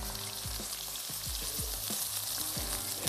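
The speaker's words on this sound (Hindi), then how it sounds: "ऑयल अच्छा सा गर्म भी हो गया, हमने इसमें ऐड कर दी प्याज।" Onions frying in hot oil in a pot for a Sindhi fish pulao, a steady, loud sizzle and crackle filling the whole clip, with faint stirring knocks underneath.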